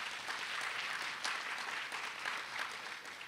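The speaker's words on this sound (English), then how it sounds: "Someone applauded." Applause from an audience at a 2012 housing trust investor briefing, a steady patter of many hands clapping, fairly faint and roomy, holding for several seconds without speech.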